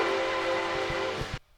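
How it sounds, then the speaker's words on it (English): A train roars past close by, a loud broad rumble with a steady whistle tone and thumping wheel beats, then cuts off abruptly into quiet. "Bobby doesn't see the train coming"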